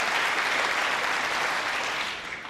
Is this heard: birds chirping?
no